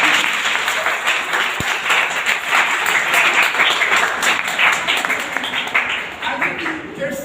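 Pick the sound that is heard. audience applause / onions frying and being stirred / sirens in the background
audience applause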